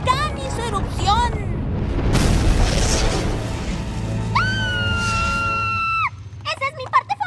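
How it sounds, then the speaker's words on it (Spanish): A cartoon volcano erupts in My Little Pony with a deep rumbling boom and crash midway, framed by voices before and a long rising shriek or cry over the roar, then fading into brief chatter. "un día crucial, el volcán hizo erupción"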